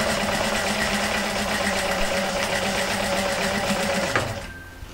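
Sewing machine quilting a circle around a ruler, a steady loud mechanical whirring and rapid stitching hum that runs continuously and then cuts off near the end.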